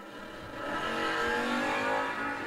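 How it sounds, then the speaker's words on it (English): Drag racing launch at the 660 Top Bulb Nationals as a Fox Body Mustang and a Buick Apollo leave the line, a loud engine roar swelling and holding steady, with no voices. "Fox Body Mustang getting ready to chase after Lee Zane's Buick Apollo."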